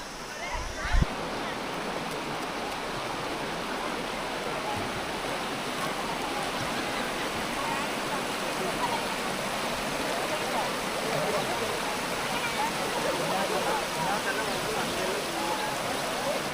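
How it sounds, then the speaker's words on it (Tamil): A flowing stream in Anaimalai near Pollachi rushes steadily at close range, a continuous broadband wash of water that holds for the whole stretch, with a brief knock near the start. "அங்கே அந்த ஓடை தெரிய ஆரம்பிச்சிருங்க. சவுண்டு கேட்குதா?"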